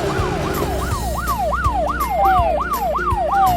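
A cartoon police car's siren wails loudly and up close in quick, repeating rising-and-falling cycles, about ten in a row, with a faint low rumble beneath and no voices.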